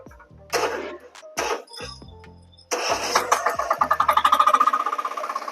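A 10 HP diesel power weeder engine runs in reverse gear, starting with a few sharp bursts and then settling into a loud, steady chugging with rapid rhythmic pulses close by.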